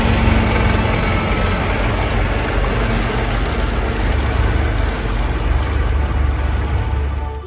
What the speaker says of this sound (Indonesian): Ini adalah truk pengangkut mobil.